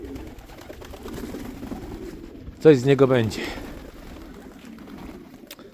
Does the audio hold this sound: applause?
no